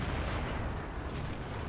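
A tier 7 tank cannon on an AT-15 or T29 fires in a tank video game, a single loud blast swelling into a dense, roaring rumble that fills the brief moment.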